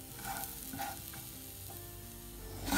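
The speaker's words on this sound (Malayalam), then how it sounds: "ചൂടായി കഴിയുമ്പോൾ നമുക്ക് കുരുമുളകും കായം വറ്റൽ മുളക് അങ്ങനെ ഓരോന്നോരോന്നായിട്ട് ചേർത്ത് നന്നായി വറുത്തെടുക്കണം" Onion, grated coconut, garlic and ginger roast in a hot pan with pepper, asafoetida and dried red chillies for coconut chammanthi podi, giving a steady close sizzle broken by a few scraping stirs.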